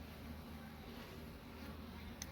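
Honey bees from a rescued hive drone in a steady, dense buzz throughout, close and continuous, with no talking over it.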